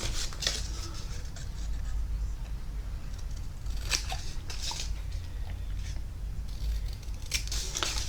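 Scissors trim a paper piece for a Halloween-themed mini album, giving close, crisp snips in irregular bursts over a steady low background hum, with no talking.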